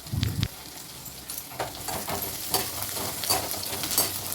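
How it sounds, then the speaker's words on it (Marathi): Green chilies and whole spices sauté in hot oil in a pan, making a continuous close sizzle with intermittent scraping stir strokes and light clinks, no voices present. "त्यामध्ये जे आपण खडे मसाले वापरणार आहोत ते टाकून घ्यायचे आणि व्यवस्थित परतून घ्यायचं आहे"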